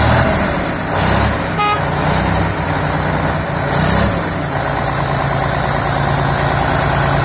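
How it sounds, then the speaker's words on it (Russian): Diesel engine of a T-150K-05 wheeled tractor idling steadily just after starting, a loud continuous low rumble with a few brief higher whines and clanks over it. "Завелся с полоборота."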